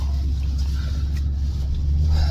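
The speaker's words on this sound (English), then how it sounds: "I'm just driving to work right now" A car cruising on the drive to work, a steady low engine and road drone with faint cabin hiss and no talk.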